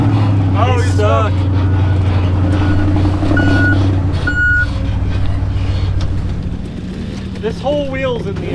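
A bus backs up with steady repeated reversing beeps, loud and close over a heavy engine rumble, while people talk and laugh inside the bouncing vehicle.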